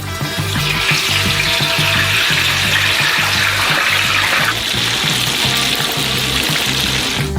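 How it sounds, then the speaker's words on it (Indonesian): Potato mixture dipped into hot oil in a large frying pan, giving a steady, loud sizzle and bubbling that runs the whole time with a low rhythmic rumble underneath. "Dalam minyak panas ini kita celupkan saus kentang ini."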